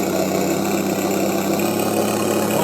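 An FDM 920 engine sound module in a radio-controlled model car gives off a steady, loud, vibrating mid-range engine drone with a rough knocking texture, holding an even pitch with no pause.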